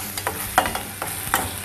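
Green chilies sautéing in a pan, a soft continuous frying hiss broken by a few sharp crackles and spatula scrapes, close and alone with no voices.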